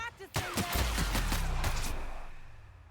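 Gunfire from the video game The Outer Worlds as an enemy is shot: a loud burst of several rapid shots that decays into a fading tail after brief softer sounds at the start.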